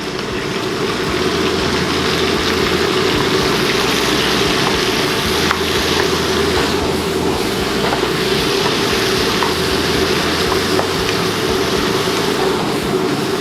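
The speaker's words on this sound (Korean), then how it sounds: "이렇게 양고기를 볶다 보면은 이제 고소한 향이 나요" Lamb meat stir-frying in a hot pan for Central Asian lagman noodles: a steady, loud, continuous sizzle with faint stirring scrapes throughout and no talking.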